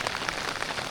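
Heavy rain pours down steadily beside a swollen river during a fishing trip, a dense, even hiss filling the whole moment with no voices.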